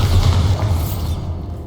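A Bombarda blasting spell goes off in the Hogwarts Legacy video game, a loud low boom with crackling debris that rumbles briefly and fades within under two seconds.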